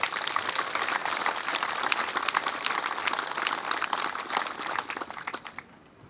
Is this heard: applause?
yes